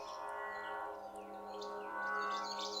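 Birds chirping and calling in a forest setting within the Skinwalker video game, a steady bright chorus of tweets over a constant low hum, fairly loud and continuous with no talking.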